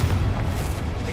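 A booming blast from a Confringo curse in Hogwarts Legacy, a brief, heavy low rumble that fills the whole moment with no voice over it.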